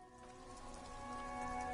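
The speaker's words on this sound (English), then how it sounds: "This rain will not let up anytime soon." Steady rain in a video game, a soft, even hiss that grows slightly louder over a couple of seconds, with sustained tonal hum layered beneath it and no talking.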